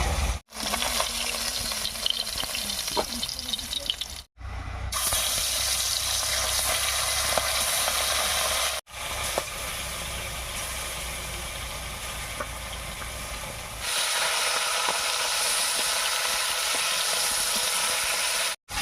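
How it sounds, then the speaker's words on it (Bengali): Small river fish frying in hot oil, a loud, dense, continuous sizzle that fills the whole stretch, briefly cutting out a few times and steadying at a slightly different level toward the end. "এই কটা মাছ ভাজা হয়ে গেছে একবার নামিয়ে নিচ্ছি"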